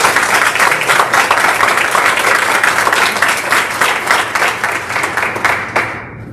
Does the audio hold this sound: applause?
yes